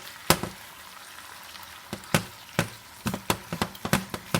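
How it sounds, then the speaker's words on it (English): Vegetables being sauteed and tossed in a pan, a steady close sizzle broken by a string of sharp scrapes and clatters as they are stirred, getting denser toward the end. "just continue to stir and toss the vegetables around"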